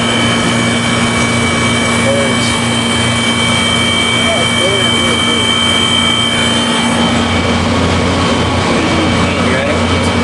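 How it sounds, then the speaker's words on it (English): A 1993 Comfort-Aire window heat pump runs in cool mode, its reciprocating compressor giving a loud, steady mechanical hum with constant tonal whine that stays unchanged from start to end. "I need a shot of that reciprocating compressor."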